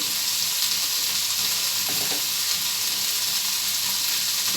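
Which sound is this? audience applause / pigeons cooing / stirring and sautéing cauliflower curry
stirring and sautéing cauliflower curry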